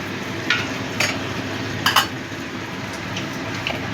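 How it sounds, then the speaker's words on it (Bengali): A spoon stirs a Nutrela soya chunk mixture with spices, Kashmiri chili powder and hot water in a pan, giving a few soft clinks over a steady faint simmering hiss. "সব মিশিয়ে নেব"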